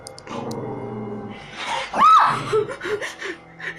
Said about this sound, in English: The dog is barking at the window in the beginning of the clip